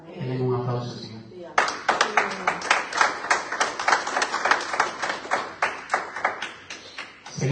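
A church congregation bursts into a round of rhythmic clapping right after a preacher's voice, the applause continuing steadily and fairly close.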